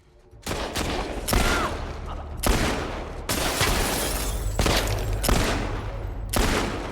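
Gunfire in The Last of Us Part II: a fast run of loud, sharp shots close by, each a hard burst with a short decaying tail, coming about once a second in an uneven volley.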